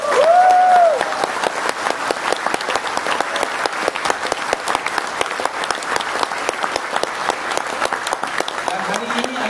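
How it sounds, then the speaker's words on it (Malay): Audience clapping at a motivational business leadership talk, dense sustained applause from a crowd after a brief tone, loud and even throughout. "Berikan diri anda tepukan"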